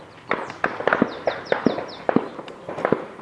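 Gunfire and bomb blasts near the Rwandan border come as a quick series of sharp cracks and pops, some in tight pairs, fairly close and loud over faint background noise, with brief whistling tails between bursts.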